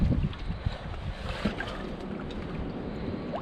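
Strong wind and waves on a rocky seashore during a stormy, rough-sea day, a steady broadband roar of surf and gusts filling the air, with a few knocks and thumps up close and no voices.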